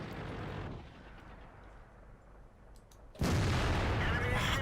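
A tank cannon blast in World of Tanks lands near the end, a loud, sudden boom after quieter engine rumble and faint speech, with a dense roar that carries on after the hit.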